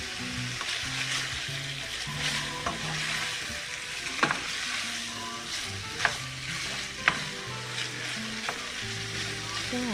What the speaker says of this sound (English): I have to get this meat broken up a little bit more.